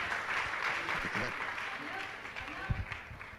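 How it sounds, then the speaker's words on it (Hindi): Audience clapping at a Digambar Jain community gathering, a steady wash of applause running throughout with a few louder claps standing out near the end. "तालियां उनके लिए जोरों से"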